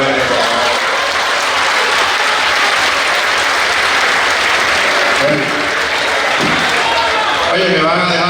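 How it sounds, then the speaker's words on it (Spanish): Loud, dense audience applause at a nightclub comedy show in Barranquilla, sustained for about eight seconds with cheers and talk mixed in, thinning slightly toward the end. "Así que vamos a dar un aplauso a las mujeres."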